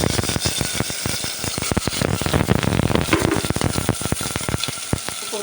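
Spices such as shahjeera, together with onion and potato pieces, fry for mint rice in a pan, giving a loud, continuous sizzle broken by frequent scraping and stirring clicks.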